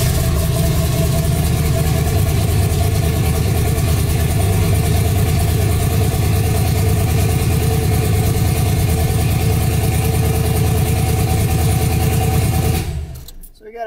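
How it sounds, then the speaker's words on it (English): A truck engine fitted with dual Walbro 450 fuel pumps idles loud and close with a steady, even drone, then cuts off near the end. "I'll start the truck and then we can look at the running pressure"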